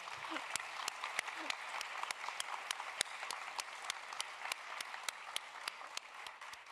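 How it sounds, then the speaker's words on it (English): An audience at a city candidate forum in Richardson gives a faint, distant round of applause. Sparse, regular claps tick steadily for several seconds, with a brief voice at the start. "So could we please give them a round of applause?"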